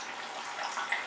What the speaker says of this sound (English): the water is now filling though.